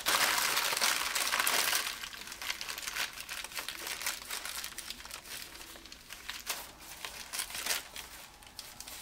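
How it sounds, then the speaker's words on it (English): Parchment paper crumpled and compacted by hand during a polymer clay faux turquoise project, a continuous close crinkling and crackling that is loudest at first and then keeps on in bursts. "I just grab my parchment paper"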